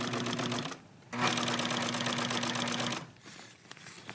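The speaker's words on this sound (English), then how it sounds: "I'm gonna sew these together and then sew one for each bow that there is to hold the headliner up." A sewing machine stitches listings for a car headliner in two loud, steady bursts of rapid mechanical clatter, the second running about two seconds before stopping, with no speech over it.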